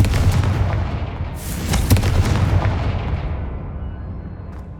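Repeated Confringo fire spells blasting in Hogwarts Legacy, a dense, loud run of booming bursts and crackling impacts with no gaps, peaking in a sharp pair of hits midway.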